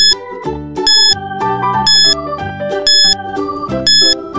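A countdown timer jingle in a grade 4 science quiz, a bright electronic melody of stepped beeping tones in a steady ticking rhythm, loud and alone.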